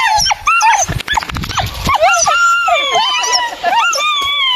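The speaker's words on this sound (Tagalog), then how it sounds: "Mga aso." Several dogs, including a white one, yelp, whimper and bark in close, busy bursts, with high whiny cries running throughout and a person talking over them now and then.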